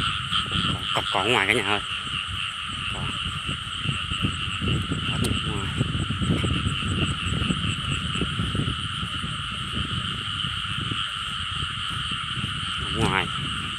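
Small frogs croak repeatedly over a constant shrill chorus of night insects during nighttime frog hunting in the fields, with a person talking nearby over the croaks.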